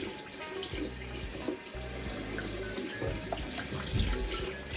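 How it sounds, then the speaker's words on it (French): Cool water running steadily from a tap into a sink while a face is rinsed, with a continuous close splashing hiss and a low hum underneath, no talking. "je vais venir donc rincer mon visage, une fois lavé, toujours à l'eau fraîche"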